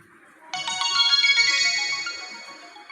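An NTT DoCoMo D505i Mitsubishi mobile phone plays a bright polyphonic ringtone melody of quick, chiming synthesized notes. It starts abruptly and stays clear and close before easing off.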